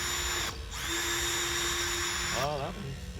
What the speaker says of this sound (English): See if my drill won't take those out.